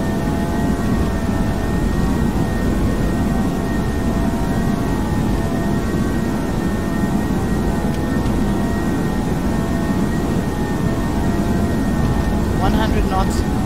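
Steady loud roar and whine of a British Airways A321's jet engines at takeoff power, heard from inside the aircraft as a constant drone with faint crew speech.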